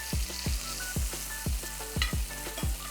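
A thin keto burger patty sizzles in a hot pan, a steady close frying hiss under regular low thumps recurring about twice a second, with no talk.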